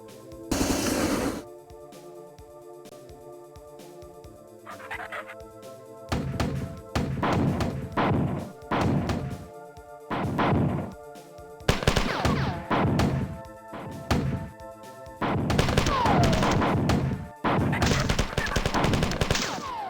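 Repeated grenade blasts in the first-person shooter Marathon, loud bursts in clusters with short gaps and a steady game soundtrack underneath.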